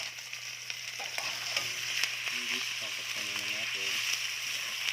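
Beef sautéing in a pan for Filipino puchero gives a steady, close sizzle and frying hiss, with a voice talking over it throughout.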